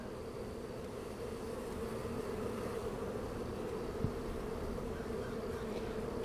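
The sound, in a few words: honey bee swarm buzzing with queens fighting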